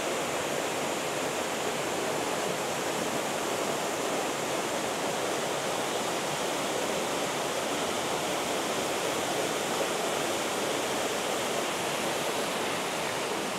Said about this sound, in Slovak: Jeden nádherný vodopád